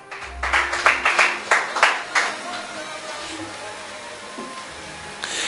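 A church congregation claps for Jesus in a short burst of applause at the start, which fades quickly into a quieter room with some background noise.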